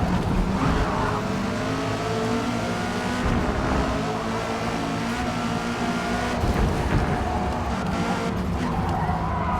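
A race car engine in Forza Motorsport drones loudly and continuously while tailing another car closely, with tire squeal and shifting revs layered throughout.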